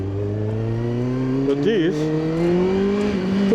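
A Kawasaki ZX9R motorcycle engine idles loud and close, with a sharp throttle blip and rise in pitch mid-clip, while someone talks over it.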